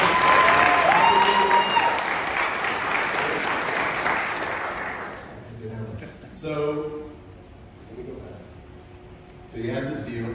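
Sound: audience round of applause

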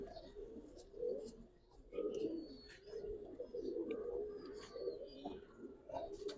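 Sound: pigeons cooing at a Giribaz pigeon farm

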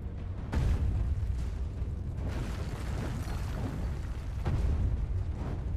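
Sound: cannon firing explosions in the video game Alice Madness Returns

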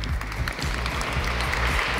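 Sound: audience applause at an award ceremony

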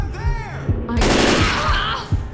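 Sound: gunfire in the video game Left 4 Dead 2

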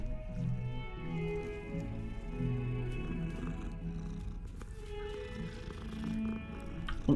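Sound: cat in video game Hogwarts Legacy

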